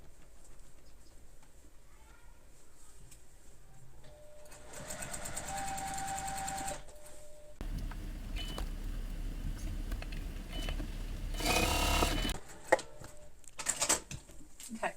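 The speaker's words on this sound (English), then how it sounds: "I'm just sewing this out with my Glide 60." A Juki Glide 60 sewing machine stitches a bag in a steady, rapid run lasting a few seconds mid-clip, with other workroom handling noise before and after and no talking.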